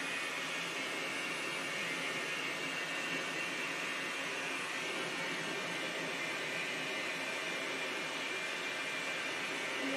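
A dog grooming dryer blows on a Maltese dog at a groomer's, a loud, constant whooshing roar of air with no change in level, steady and close for the whole stretch.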